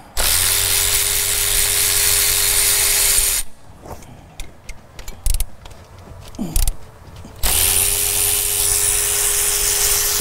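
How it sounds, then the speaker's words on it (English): A power ratchet or impact tool spins out the four 15 mm metric bolts holding a compressor, during a pump swap on a diesel engine. A loud, steady mechanical whir runs for several seconds, then clanks and short bursts, then another sustained run. "now we will remove the 4 15 metric headed"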